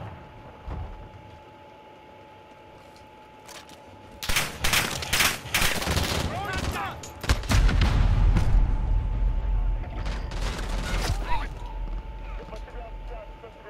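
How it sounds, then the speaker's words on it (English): Gunfire in Call of Duty: Modern Warfare online multiplayer, bursts of rapid shots and impacts hitting the player, loud and dense with a lower rumbling stretch, over a faint steady tone; a voice speaks at points. "Getting shot non-stop."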